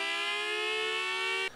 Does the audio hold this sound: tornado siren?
yes